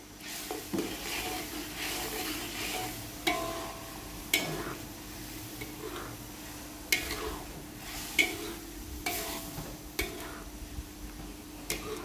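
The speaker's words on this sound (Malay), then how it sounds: "nampak dia kuah dia tu mendidih molek dah" Soft, steady bubbling and sizzling from tamarind fish sauce boiling in a pan, with occasional sharp clinks and taps of a utensil against the pot.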